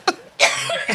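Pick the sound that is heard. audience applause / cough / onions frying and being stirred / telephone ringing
cough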